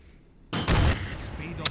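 A grenade goes off in the Sniper Elite VR game, a sudden loud blast after a quiet lead-in, followed by a rumbling decay and a short sharp crack near the end.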